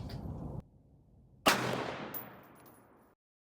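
A single sharp gunshot from accuracy target shooting cracks out loud and close, then trails off in a long fading echo, with a separate burst of noise just before it.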